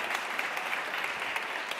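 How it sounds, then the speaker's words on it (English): Audience applause at a conference session: a brief, full, steady burst of many hands clapping together at moderate volume. "But can we just give a round of applause to Alicia Okeo Atmore,"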